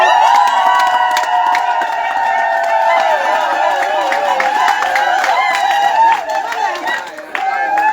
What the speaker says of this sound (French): On l'applaudit pour eux.